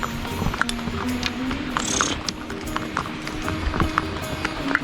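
Horses' hooves clop on a rocky mountain trail on the Amarnath Yatra pilgrimage route, with a steady stream of irregular hoof strikes amid crowd murmur and scattered voices.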